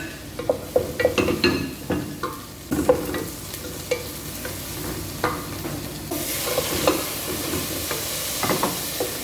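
Ginger and garlic frying in a pan with whole spices, stirred with frequent clattering scrapes and knocks of the utensil, followed by a brighter, louder sizzle that carries on steadily.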